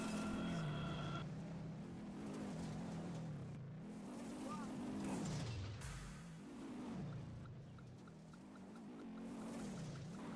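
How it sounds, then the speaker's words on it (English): An engine revs and whines in rising and falling surges as a car spins donuts through a cornfield in the video game Goat Simulator, loud and continuous throughout. "a goat got its tongue stuck to the back of a car doing donuts in a field full of corn"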